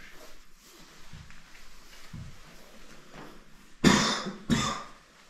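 Two sharp, harsh coughs ring out close by near the end, after a stretch of quiet room noise with faint shuffling.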